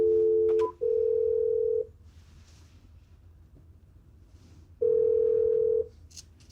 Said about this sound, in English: There should be no more than 3 rings before they pick up my phone call